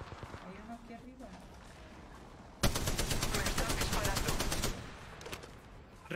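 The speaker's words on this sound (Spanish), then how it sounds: "Me están disparando." Rapid automatic gunfire in the mobile battle royale game Apex Legends Mobile, a loud sustained burst of shots lasting about two seconds after quieter game sounds and talk, with a single shot at the end.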